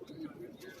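Pigeons cooing on a rooftop in Karachi, a low murmuring coo that runs steadily through the short moment, with a voice talking faintly underneath.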